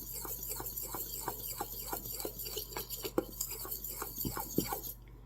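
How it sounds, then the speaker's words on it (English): A fork stirs ingredients in a bowl for blueberry muffin cake batter, making quick rhythmic clinks and scrapes at a brisk even pace. The strokes are close and moderately quiet, with no voices. "take a fork, and I'm just going to stir this up"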